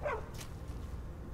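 A dog in the video game Skyrim gives a quick yelping bark as it rushes to attack, followed by a brief scuffle over a low, steady game background.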